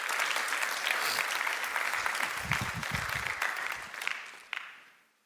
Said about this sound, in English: Clap right there.